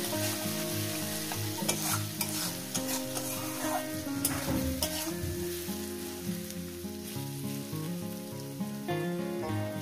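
Tomato and spice masala frying under a lid for an egg curry, giving a steady muffled crackle and sizzle like rain on a surface, continuous and even throughout with no talk.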